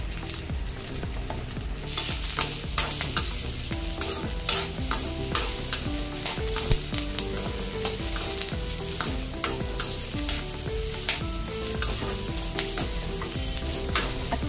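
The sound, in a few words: onion sautéing in pan for butter chicken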